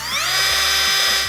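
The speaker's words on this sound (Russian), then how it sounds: "Шуруповерт." A cordless screwdriver motor spins up with a quickly rising whine, then holds a steady high-pitched buzz for about a second, close and alone.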